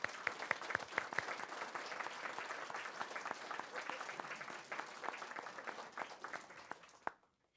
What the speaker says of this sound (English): Round of applause for our mini team.